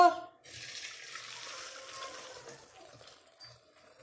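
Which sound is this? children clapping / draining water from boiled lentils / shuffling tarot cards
draining water from boiled lentils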